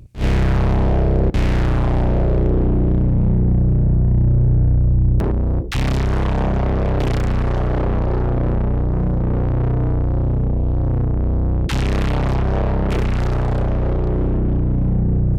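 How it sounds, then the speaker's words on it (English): The Disseptor all-pass distortion plugin produces heavy distorted electronic tones that sustain loudly and continuously, with a few abrupt re-attacks and gritty, buzzing harmonics throughout. "I love me a good chunk of distortion"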